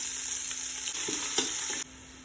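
Oil sizzles steadily with sliced onions frying, broken by a few scraping stirs before the sizzle drops slightly near the end.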